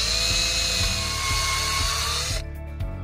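A drill fitted with a 5/8 inch wood bit cuts a circular hole during an e-bike handlebar mirror install, a loud steady high whine that stops abruptly near the end, followed by brief clatter.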